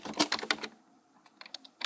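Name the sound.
pressing the B key on a computer keyboard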